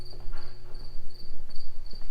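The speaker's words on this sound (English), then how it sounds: "There's a cricket making noises up there." A cricket chirps near a parked truck, a steady high-pitched trill pulsing in rapid regular bursts over a low constant hum.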